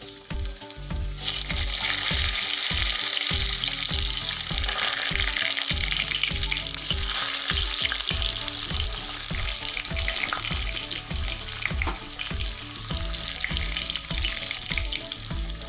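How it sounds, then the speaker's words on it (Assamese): Potatoes frying in hot oil give a loud, dense, continuous crackling sizzle up close that holds steady for the whole stretch after a brief quieter start, with no voices. "এইফালে মোৰ তেল গৰম হৈ গ'ল আৰু এই আলুখিনি দি দিওঁ।"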